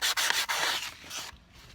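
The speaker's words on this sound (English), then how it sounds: "we're going to go ahead and begin by just sanding off this shaft a little bit" Quick back-and-forth scratchy rasps of 320-grit sandpaper rubbing a metal shaft during a clutch replacement, several strokes close up, then fading to quiet.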